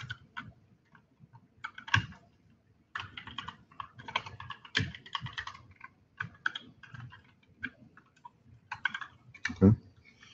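Code being typed on a computer keyboard during a Node.js workshop, bursts of quick close key clicks with short pauses and a few louder keystrokes.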